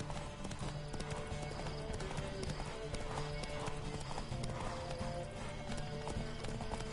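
Steady rhythmic hoofbeats of a galloping horse in a race in The Witcher 3: Wild Hunt, loud and continuous, with a brief whinny and background game ambience.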